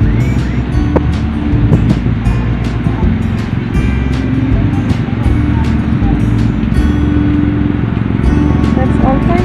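Busy weekend traffic at a large McDonald's drive-through in the Philippines, a dense steady rumble of many car engines idling and moving nearby, with scattered clicks and knocks.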